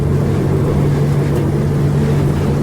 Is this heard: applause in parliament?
no